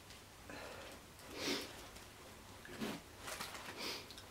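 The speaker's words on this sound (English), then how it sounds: "I'm so sorry if I keep like sniffling. I have really bad hay fever at the moment" Several nasal sniffles from a person with bad hay fever, arriving in short bursts roughly a second or more apart, close and moderately loud over a quiet indoor background.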